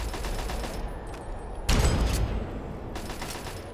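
Gunfire in the video game Fallout 3 crackles in a steady stream, with a louder burst of heavy shots in the middle before easing back to continued firing.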